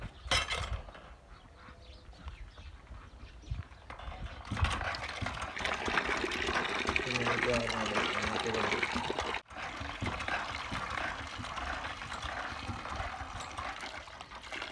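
Water splashes and gushes from a hand pump as it is worked, a quiet, uneven pouring with brief surges and a short break partway through, set in a household scene.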